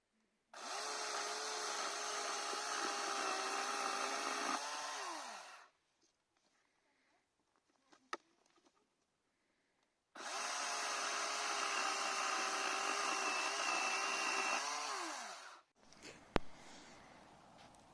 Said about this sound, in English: Keep that chainsaw right against the tree.